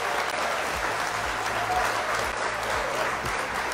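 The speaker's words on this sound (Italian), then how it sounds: "dov'è l'applauso?" An audience at a talk with a singer on music and digital art applauds in an even, sustained burst of dense clapping that holds steady for nearly four seconds.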